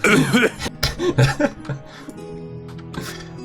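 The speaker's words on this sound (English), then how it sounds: "I just cough." A few bursts of coughing close by, mixed with a bit of laughter and chatter, followed by a quieter stretch with a steady background hum.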